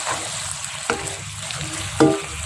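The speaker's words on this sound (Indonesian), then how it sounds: "Kita aduk rata." Tofu and chicken feet being stirred in a frying pan with sliced spring onion, a steady sizzle under two sharp scrapes of a utensil against the pan, close and fairly loud.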